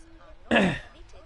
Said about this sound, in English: That's part of why I'm coughing so much and I have to clear my throat